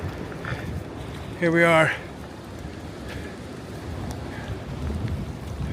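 Strong wind buffets a wet fire tower on the Appalachian Trail, a steady roaring rush throughout, with someone speaking briefly over it.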